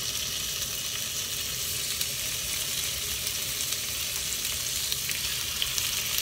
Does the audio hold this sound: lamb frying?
yes